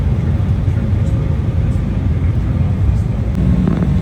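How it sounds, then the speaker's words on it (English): A passenger airplane taxis for takeoff from Seattle, heard from inside the cabin as a steady, loud low rumble of engines and airflow that stays constant throughout without talk. "we're about to take off to Canada"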